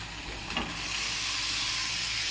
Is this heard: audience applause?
no